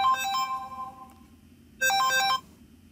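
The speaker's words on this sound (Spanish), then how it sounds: "Un momento, que suena el teléfono." An electronic phone ringtone plays a short melodic burst, pauses, then rings again, clear and close with no talking.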